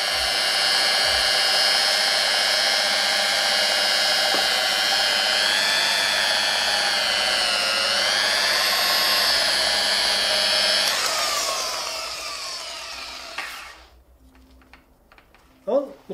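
A rotary polisher whines loudly and steadily at low speed while working paste into car paint, its pitch wavering slightly before it winds down and stops, followed by brief handling noises.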